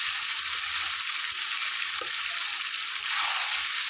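Chicken kosha frying in hot oil with homemade spices while being stirred, a loud, steady close sizzle with faint scraping under it and no voices.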